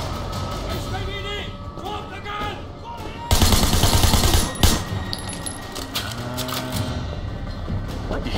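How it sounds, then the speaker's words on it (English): Shotgun fire during a hospital shootout in the Sleeping Dogs video game: rapid, loud gunshots in a dense cluster amid a chaotic firefight, with voices talking over the action. "Shotgun, you know?"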